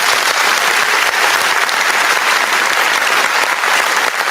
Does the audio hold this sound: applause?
yes